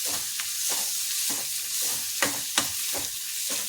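Ingredients sauté in a pan until well browned, a steady hiss of frying broken by repeated spoon scrapes and a couple of sharper clinks, close and fairly loud, no voices.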